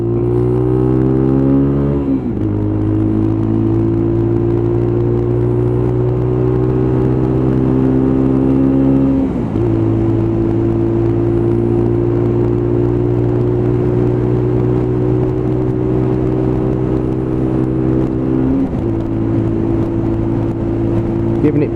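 A Lexmoto Tempest motorcycle engine drones steadily uphill around 50-55 mph, pitch climbing through each gear then dropping at shifts, loud and close throughout; the bike has a cutting-out fault.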